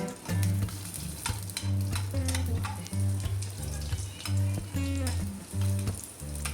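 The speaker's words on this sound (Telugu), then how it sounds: "ఒక ప్యాన్ పెట్టి దాంట్లో కొంచెం ఆయిల్ వేయాలి టూ స్పూన్స్ ఆయిల్ వేసాక ఎల్లుల్లిపాయలు ఎండుమిర్చి వేసి లైట్గా ఫ్రై చేయాలి" Garlic and dried red chillies fry in a little oil in a pan, a steady close sizzle with frequent scraping and clinking of a spoon stirring, over faint background music.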